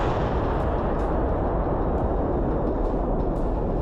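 An artillery barrage strikes Ukrainian frontline positions, heard as a dense, unbroken roar of distant explosions merging into one heavy rumble with no voices.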